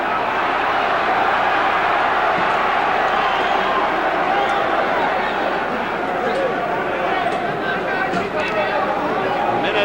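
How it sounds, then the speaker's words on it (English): A large arena crowd at a 1973 Muhammad Ali versus Joe Bugner boxing match roars in a steady, loud wash of cheering and chatter that never breaks. "the crowd has gotten a kick out of it, as you can hear"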